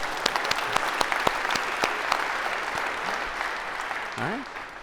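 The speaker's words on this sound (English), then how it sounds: "Maybe a round of applause, because this is always awkward" A lecture hall audience applauds a volunteer coming down to the stage, a dense wash of clapping with a few sharper nearby claps standing out, steady throughout, with a brief voice near the end.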